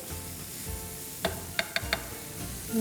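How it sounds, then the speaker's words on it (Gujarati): A spoon mixes spiced vegetable rice tikki stuffing in a pan, giving a quiet sizzle with a few sharp metallic taps and scrapes against the pan. "અગેન આપણે એને એકવાર પાછું મિક્સ કરી લઈએ."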